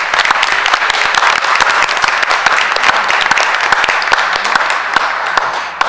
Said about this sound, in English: one big round of applause for the families of our Students of the Month